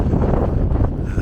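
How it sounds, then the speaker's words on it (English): Strong wind of about 40 mph blasts across the microphone in a dense, loud, rumbling roar that holds steady through the brief moment. "That is about a 40 mile an hour wind I've got right now."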